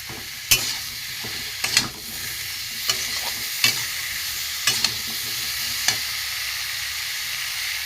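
Whole spices and fried pointed gourd stir-fried in a pan with grated ginger, a steady sizzle broken by sharp scraping spatula strokes at irregular intervals, close and moderately loud.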